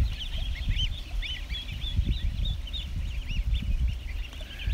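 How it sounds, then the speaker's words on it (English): Repeated honks from a nearby goose mix with busy calls of ducklings over a constant low rumble of outdoor noise. "The goose is definitely interested in me."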